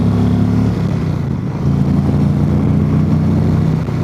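Motorcycle engine with stock exhaust pipes on a country ride, a loud continuous low rumble that eases briefly and then climbs again as the throttle opens, close and with no talk.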